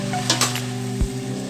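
Beef and vegetables stir-frying in a big pot with sauces, a steady loud sizzle with a couple of quick scraping stirs and a single metallic clunk of the utensil.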